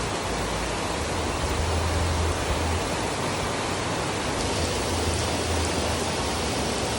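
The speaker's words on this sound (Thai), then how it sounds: "อากาศเย็นมากนะครับฝนตกลงมานะครับ" Steady rain falls in cool, changeable weather, a dense, even hiss that holds at the same level for the whole stretch with no voices over it.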